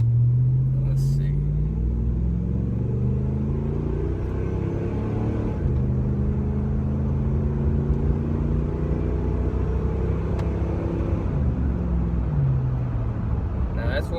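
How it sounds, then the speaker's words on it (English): A 2005 Dodge Ram 1500 quad cab pickup with a 5.7 liter V8 and single-in, single-out Flowmaster exhaust idles and revs with a deep, steady rumble, close and continuous throughout. "it came with a Flowmaster exhaust, single in, single out"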